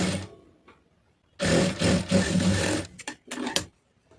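A sewing machine stitches the neckline of a star-neck blouse, running close and loud in one long steady burst, then in a few short stop-start runs after a brief pause.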